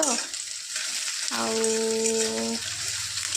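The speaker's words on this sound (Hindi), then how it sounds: "ये पियाज भजा चलती" Onions frying in a pan for a home-style chicken curry, a continuous sizzle broken midway by a held tonal whine lasting about a second, no speech.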